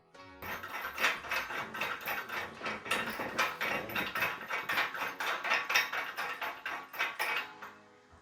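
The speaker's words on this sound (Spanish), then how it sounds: "La pasamos por aquí y enroscamos el tornillo." A bolt is screwed in during assembly of an Adidas home gym, giving rapid ratcheting metallic clicks in a steady, close run of about seven seconds.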